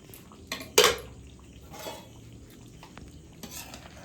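Spicy restaurant-style chilli chicken is lifted off the heat and tipped into a bowl, with a sharp metallic clank of pot on bowl, a few lighter scrapes and knocks, and a faint background hum.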